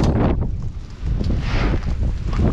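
Gusty wind in a field blows hard across the microphone, a loud rushing rumble that dips briefly then surges back.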